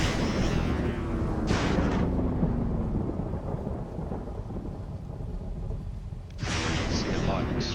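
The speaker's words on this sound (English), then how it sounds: "See a lightning strike on one of my positions." Thunder from a lightning strike in the Planetbase colony game, a loud broadband rumble that swells, fades over several seconds, then cracks again near the end, with rain-like noise throughout.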